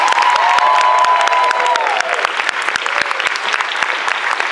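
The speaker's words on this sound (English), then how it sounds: "Let's have a big round of applause for Tiffany Dean cosplay" A large audience applauds a cosplay contestant at a cosplay championship in Sydney, loud and sustained clapping with some cheering. A voice speaks over the first half.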